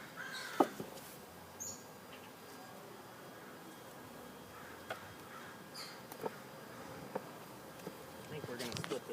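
Honeybees hum around an open backyard beehive during an inspection, a steady diffuse buzz with occasional close wing passes, faint crow calls in the distance and brief handling knocks.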